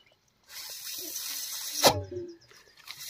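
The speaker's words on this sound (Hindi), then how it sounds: "फूकने के बाद पानी कैसे आ गया ऊपर?" Water gushes up out of a pipe in a village after someone blows into it, a sudden close rush that flows steadily, bursts loudly near the middle, then weakens and sputters.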